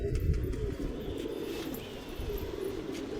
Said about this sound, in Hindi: भूखा है कबूतर ये 2 दिन से।